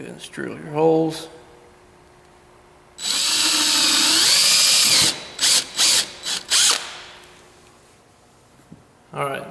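Working through a boat console mount, a power drill with a 9/64 bit gives one sustained loud whir of about three seconds, then several short close bursts. A voice is heard briefly before the drilling starts.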